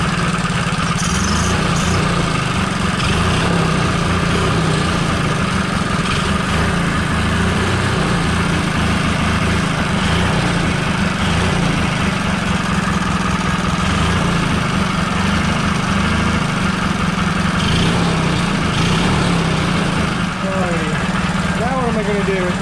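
A 1982 Bush Swamper engine idles steadily and loudly with a continuous low chugging throb throughout, and people talk briefly over it.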